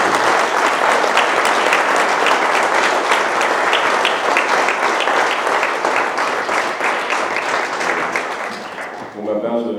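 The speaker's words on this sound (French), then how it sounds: "on va pouvoir vous applaudir déjà" An audience gives a sustained burst of dense clapping that stays loud and even throughout, then thins out and fades in the final moment.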